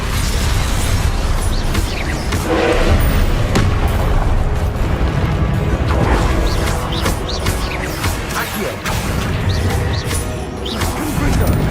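The Expelliarmus spell is cast in Hogwarts Legacy amid dense, loud magical combat, with repeated booming bursts, crashes and rumbling impacts running continuously.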